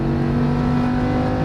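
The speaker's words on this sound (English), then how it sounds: "Just keep full throttle." A Lamborghini Huracan LP610 engine held at full throttle on a track, a loud, steady, strained roar with strong harmonic tones running without a break and no gear change.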